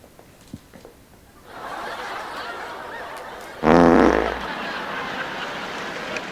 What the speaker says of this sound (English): Did you just fart?